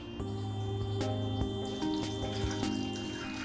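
Clean water runs steadily from a tap onto a bowl of soaked black chickpeas, a continuous close splashing stream with small clinks of the vessel, no voices.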